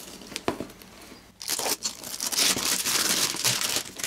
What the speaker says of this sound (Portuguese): Vamos tirar esse plástico de fora aqui primeiro.